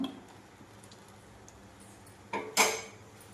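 A kadai pan set down on the stove makes two quick metallic clanks, close and fairly loud, after a few seconds of quiet kitchen background.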